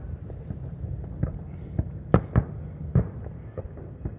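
Fireworks bursting at night during a summer Fourth of July show, a series of sharp, fairly distant pops and bangs spaced irregularly over a low wind-like rumble.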